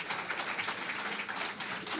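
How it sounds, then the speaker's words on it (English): Steady applause from an audience at a regional awards ceremony for a story award winner, a continuous wash of many hands clapping at moderate distance. "A round of applause again for Kishane"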